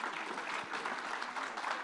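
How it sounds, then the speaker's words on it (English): Audience applauding panelists at a policy discussion on Texas, America and tariffs, a steady dense wash of clapping that runs the whole stretch without pause. "please give a round of applause to our wonderful panelists"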